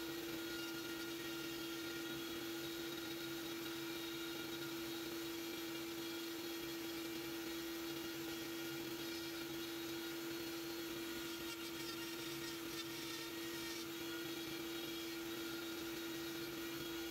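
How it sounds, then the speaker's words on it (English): A rotary power carving tool fitted with a fine flame burr smooths a carved flower in a tree branch, giving a steady, faint high whine with light grinding hiss throughout, without pauses. "Now I do some smoothing out with the fine flame burr."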